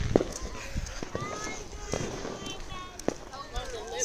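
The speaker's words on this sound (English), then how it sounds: "More fireworks are getting lit." Fireworks being lit and set off outdoors, sharp pops and crackling bursts scattered through steady background noise, with people talking and calling out nearby.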